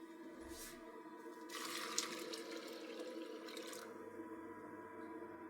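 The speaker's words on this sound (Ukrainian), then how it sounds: "Доливаю води." Water poured into a pot of borscht made with fish and beans, a soft splashing pour that swells for a couple of seconds over a quiet kitchen hum.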